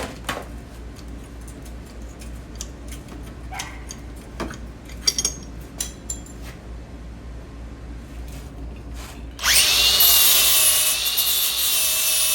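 Angle grinder smoothing the Dana 30 axle tube on a Jeep Wrangler TJ after bracket removal, starting abruptly near the end as a loud, sustained high whine after quieter scraping and ticking shop sounds.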